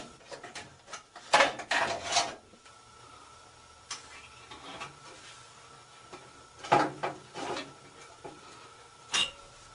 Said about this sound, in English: Use a small screwdriver like this to remove these wires from these holding clips.